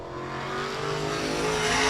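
Race car engine droning steadily at Claremont Motorsports Park during a timed lap, a sustained tonal roar that swells slightly louder as the car approaches, with no talk over it.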